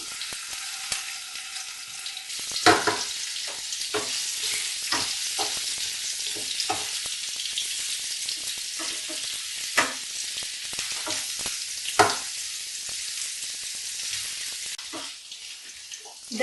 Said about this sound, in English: For this recipe, first fry the paneer lightly.